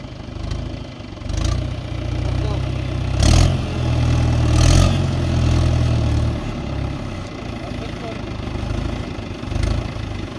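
A tractor engine pulls hard onto a raised field embankment, rumbling loudly and steadily with a surge in revs partway through, while voices call out in the background.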